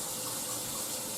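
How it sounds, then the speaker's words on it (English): Hot tap water runs steadily from a kitchen faucet into a pot, filling it to cover gizzards for Thanksgiving cornbread dressing; a continuous close hiss and splash with no voice over it. "I will cut it on and fill it up with water"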